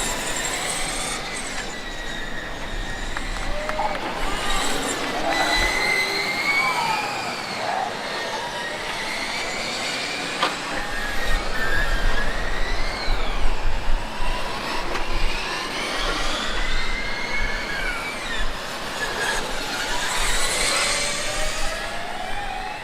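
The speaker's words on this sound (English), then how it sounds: "the driver from Prague going flat out in one of the first corners here" A Formula Student race car at an endurance event, its high-pitched engine whining past at speed and rising and falling through gear changes, heard from trackside among other cars, with a faint commentary voice underneath.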